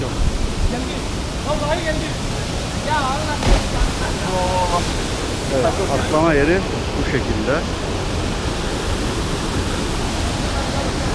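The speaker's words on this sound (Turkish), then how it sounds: "Buradan şelale akıyor." A waterfall rushes in a constant broadband roar while someone talks over it and a few other voices call out in the background.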